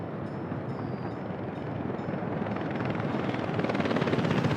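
Continuous broadband rumble of a train moving in the city-building game Workers & Resources, a dense steady roar that grows slightly louder over a few seconds.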